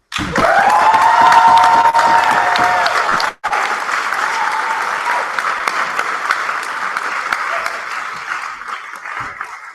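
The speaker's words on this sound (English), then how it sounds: "big round of applause for our two guests, Daisy and Pat" A debate audience breaks into loud, sustained applause that cuts off briefly, then resumes and gradually thins out.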